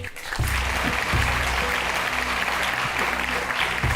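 An audience at a spiritual talk breaks into steady, full applause, a continuous dense clapping from a large crowd that holds for the whole stretch with a low hum beneath.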